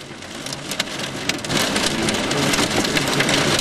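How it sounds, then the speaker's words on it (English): Hail and rain pound hard and steadily during a tornado storm in Stratford, Texas, a dense close roar of impacts with scattered sharper hits, building louder midway. "Hail's hitting me!"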